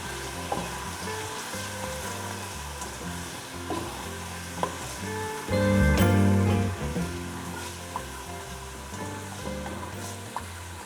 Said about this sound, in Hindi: ये थोड़ा सा भूनेंगे।